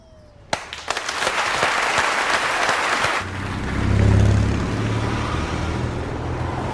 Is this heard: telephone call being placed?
no